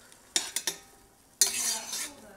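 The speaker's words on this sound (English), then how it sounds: "I like to just stir the onions a little bit" Onions stirred in a pan before any oil is added: a few short scraping strokes, then a longer, louder scrape and a final sharp tap, close up, with no talking.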